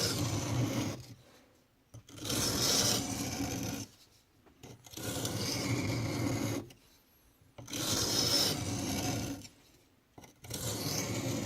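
A knife blade scrapes in slow, controlled strokes across an oil stone, each rasping pass lasting about two seconds with short quiet gaps between them, close and even in rhythm.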